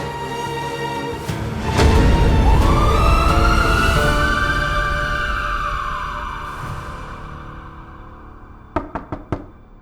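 An ambulance siren rises and holds a long wailing tone that slowly fades, over a dense dramatic backdrop, ending with a few sharp knocks.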